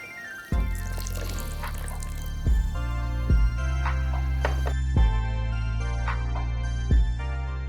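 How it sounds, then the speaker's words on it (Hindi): Water is poured into ragi pancake batter in a kitchen, splashing and dripping with several distinct plops and a steady trickle, close and clear. "अब हम इसमें थोड़ा पानी बढ़ा लेते हैं।"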